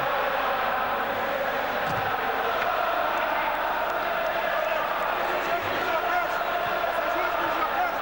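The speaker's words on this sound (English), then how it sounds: "the crowd have something to sing about here" Football crowd at the Olimpico stadium in Rome during a Lazio v Besiktas UEFA Cup quarter-final, a broad steady roar of massed voices singing and chanting, continuous and distant-sounding, with a commentator talking over it.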